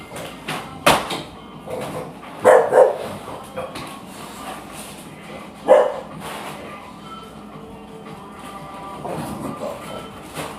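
A dog in the Danganronpa video game gives a few short, sharp barks and yips spread across the stretch, loud and near, with quieter game sounds and some speech between them.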